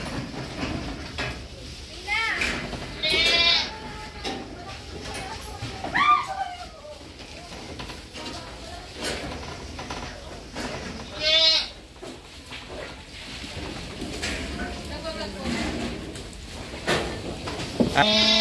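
Goats on an organic farm bleat repeatedly, several scattered calls near and far, while people talk in the background.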